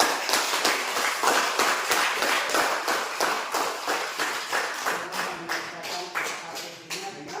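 A group of people clapping together in a classroom, dense overlapping claps falling into a fast steady rhythm and continuing for several seconds, fairly close.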